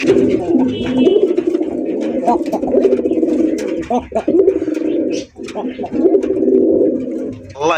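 Satin pigeons coo in low, throaty, repeated calls close by, nearly continuous with brief pauses, while a person talks intermittently over them.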